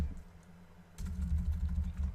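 Typing on a computer keyboard while filling in a WordPress website settings page, a quiet opening then a run of close, rapid key clicks without talk.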